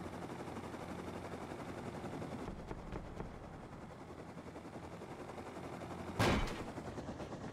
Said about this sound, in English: Ooh, he's shooting at me.